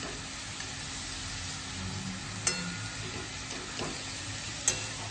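Cabbage and prawns frying with a spoon or so of homemade masala, stirred in a pan: a steady close sizzle runs throughout, broken by a few sharp spatula clicks against the pan.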